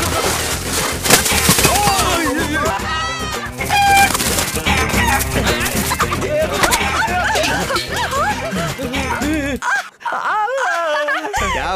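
Chickens cluck and squawk loudly while being chased in a Hindi-dubbed South Indian action film scene. The frantic calls run continuously over shouting voices and a busy soundtrack.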